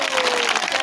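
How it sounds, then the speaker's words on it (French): Audience applause bursts out at the launch of a French-speaking Good News Club gathering, a dense, steady wash of many hands clapping close by with no gaps. "Vous applaudissez pour vous-même."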